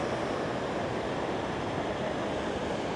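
Rough sea surf with big waves and breakers on the shore at Puerto de la Cruz, a steady, dense roar of crashing water filling the whole clip with no letup.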